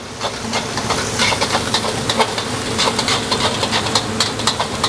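Garlic, chili paste and seasoning paste sautéing in oil in a pan for shrimp rica rica, a close, steady frying hiss with rhythmic bursts of crackle as the mixture is stirred.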